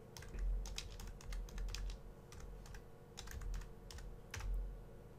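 Keys clack in quick irregular bursts on a computer keyboard as a command is typed, close and fairly clear over a low steady hum, with no talking.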